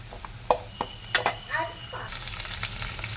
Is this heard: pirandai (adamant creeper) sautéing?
yes